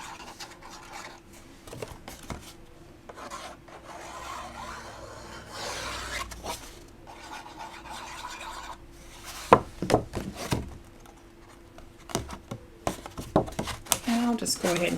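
A large spatula scrapes and rubs over glued paper scraps to press them flat for Christmas decor, giving close, intermittent scratchy strokes and taps over a quiet room hum.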